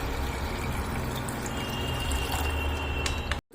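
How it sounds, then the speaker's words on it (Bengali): Pre-heated water pours into a simmering fish curry in a pan, a steady, close rushing wash that runs unbroken for several seconds before cutting off abruptly at the end, with no talk. "আমি আগে থেকে গরম করে রাখা জল দিয়ে দিচ্ছি"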